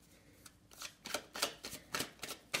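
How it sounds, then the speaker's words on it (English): A deck of cards is shuffled by hand, giving a run of quick riffling bursts at close range with no talking. "Last shuffle."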